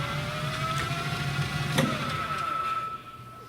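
A Hardinge HLVH lathe spindle winds up after the brake is released, a steady mechanical whir with rising tonal whine that holds close and continuous, then eases slightly near the end.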